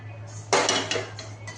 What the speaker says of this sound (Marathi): आता खसखस भाजून झालेली आहे, ती काढून घेते.